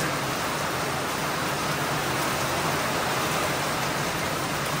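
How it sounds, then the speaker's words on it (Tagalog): Heavy typhoon rain pours in a dense, steady hiss that fills the whole clip without letup, with no voices. "Ang lakas ng ulan"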